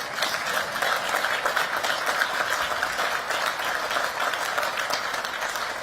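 An audience applauds at a West Point commencement ceremony, a steady wash of many hands clapping that holds at an even, moderate level throughout with no voices over it.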